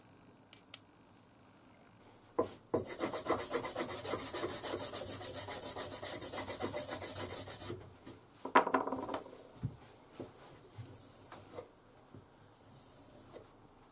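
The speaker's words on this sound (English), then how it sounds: "20 minutes of micro mesh stropping" Old Mora knives being stropped on micro mesh, with a steady, dense rubbing hiss that runs for several seconds alongside soft scraping strokes, followed by scattered light taps and handling sounds.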